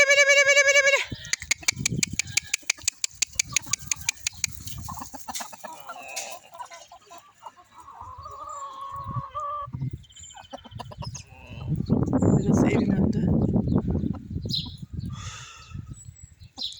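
Chickens cluck and squawk at close range amid farmyard noises, with a rapid series of sharp calls early and a louder burst of clucking later.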